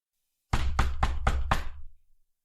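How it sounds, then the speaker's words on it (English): Five loud, evenly spaced knocks rap on a door in quick succession, sharp and close, followed by silence. "a loud, energetic knock came at the door."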